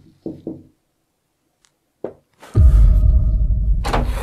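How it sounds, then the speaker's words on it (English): Two quick knocks on a door inside a quiet house, followed by a lone thud and then a loud, sustained rushing noise. "I thought I heard a knock."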